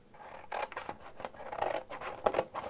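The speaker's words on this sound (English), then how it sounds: "And my beautiful new scissors." Large, new scissors cut through a craft panel with a few quick, crisp snips and scratchy slicing strokes heard up close, with no talking.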